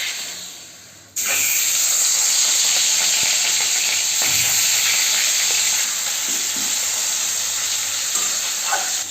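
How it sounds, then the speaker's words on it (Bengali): Pieces of rui fish frying in hot mustard oil for a Bengali posto dish, a loud, dense, steady sizzle and crackle that bursts in suddenly and holds for several seconds, with faint stirring taps and no voices. "প্রত্যেকটা মাছ আমি এক একটা করে দিয়ে ভেজে নেব।"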